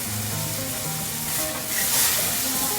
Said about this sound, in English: Now we're deglazing the pan.